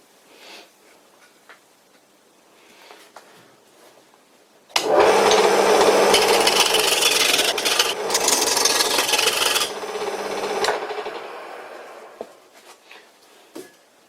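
An old wooden wood lathe turning a piece of wood, a loud steady rasping and rubbing from the cut lasting about five seconds, then fading to a quieter run, with the motor faint before and after.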